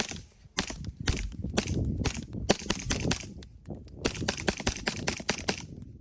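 Suppressed 9mm HuxWrx Rex 01 pistol fired through a HuxWrx Flow Range 36 TI silencer with 150 grain subsonic ammunition, a string of sharp muffled cracks in a quick irregular series, close and fairly loud.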